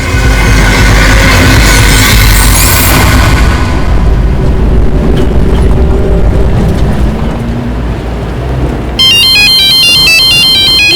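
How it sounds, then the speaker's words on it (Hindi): A phone's electronic ringtone starts abruptly near the end, a bright repeating melodic pattern cutting in after a loud, rumbling dramatic score in a Crime Patrol crime drama scene. "मैं आपको फोन उठा के देती हूँ।"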